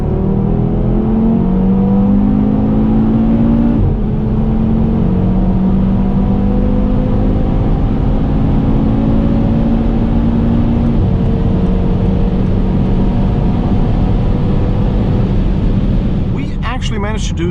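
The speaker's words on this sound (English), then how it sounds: "Let's now see how fast the car goes from 100 to 200." Audi TT RS facelift pulling hard from 100 to 200 km/h, a loud, steady engine roar with rising pitch through gears and a sustained near, intense whir throughout.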